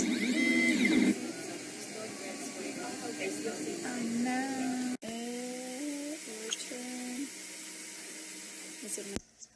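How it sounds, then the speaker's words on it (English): A 3D printer running while printing PLA plastic with the nozzle at 200 degrees Celsius, its stepper motors whining in shifting tones and bursts, close and moderately loud, with someone speaking over part of it. "So our first attempt at running the printer, we had set it to 200 degrees Celsius"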